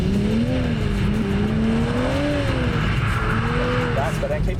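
A Toyota race car accelerates with its wheels spinning on track, engine note rising and wavering at steady high volume, with tire noise mixed in and a voice speaking over it.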